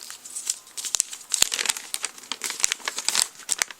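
A small paper insert from a LEGO Education Spike Prime expansion set box is handled and crinkled up close, giving continuous dense crackling with irregular sharp peaks and no speech.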